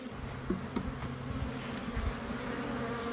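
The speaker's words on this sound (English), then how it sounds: "Bees, bees, bees." A dense, steady buzzing of many agitated honeybees at an opened hive close by, a continuous droning hum with a few louder passes.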